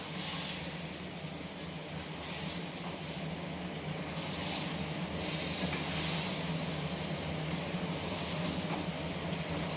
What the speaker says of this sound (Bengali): এইবার একসঙ্গে আমি নেড়ে চেড়ে মশলাটা ভালো করে কষিয়ে নেব।